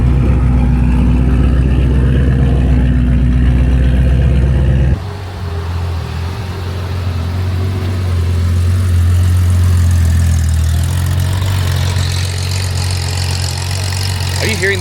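Engine rumble at a Miami car meet with a V8 car idling, a loud steady low growl, with a shift partway through as another deep engine note takes over.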